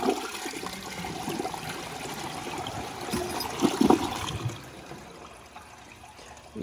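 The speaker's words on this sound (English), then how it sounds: "they're designed in a way to refill themselves after the flush" A 2012 VitrA Evergreen front-flush toilet flushes with a gushing rush of water, then trickles and refills more quietly as the flow tapers off, heard up close with no talking.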